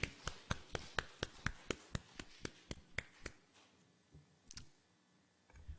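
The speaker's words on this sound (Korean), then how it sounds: "주님께 박수로 우리 영광을 올려드리겠습니다" Rhythmic clapping at a Christmas Sunday church service: about a dozen crisp, evenly spaced claps in quick succession, then a few scattered ones trailing off, close and fairly quiet with no speech.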